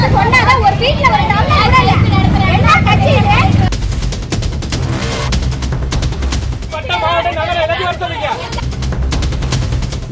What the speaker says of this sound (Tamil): பாஜகவினர் பட்டாசு வெடித்த போது